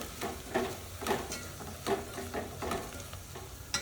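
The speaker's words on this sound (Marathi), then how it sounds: "आता हे सर्व मसाले टाकून घेते. मसाल्याला छान भाजून घेते." Onion, ginger, garlic, coriander and mint masala frying in a pan for a spicy village chicken curry, with a steady sizzle broken by regular, close stirring strokes roughly every second; no talking.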